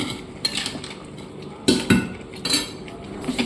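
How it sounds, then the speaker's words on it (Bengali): Mutton pieces are added to a pressure cooker with potatoes, producing clattering spoon-and-metal knocks in a few separate bursts, close and fairly loud against a quiet kitchen. "খাসির মাংসটাকে অ্যাড করে দেবো।"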